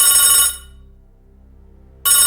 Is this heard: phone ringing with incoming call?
yes